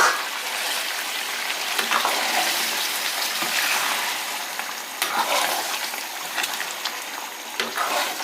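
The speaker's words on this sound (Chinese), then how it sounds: "煮差不多了，倒入鸡腰。" Chicken kidneys going into a pot of pork belly simmering on a hot stove, with a steady broad bubbling and sizzling wash, moderate and close, and a few small clinks and splashes.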